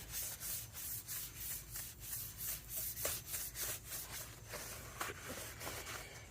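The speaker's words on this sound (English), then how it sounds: "I'll hit her with a scrub brush right quick." A scrub brush rubs rhythmically against the back of a car wheel, with repeated scratchy strokes about twice a second, close and fairly loud, with no talking.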